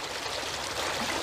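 Creek water trickling and gurgling through a small drainage ditch in creek bottomland, a soft continuous babble heard up close and fairly quiet.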